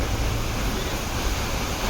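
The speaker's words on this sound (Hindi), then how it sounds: "इतना ज़्यादा तेज ये पानी गिर रहा है" Strong rushing water pours down on the Gaumukh trek, a dense, loud, unbroken roar filling the whole moment with no pauses.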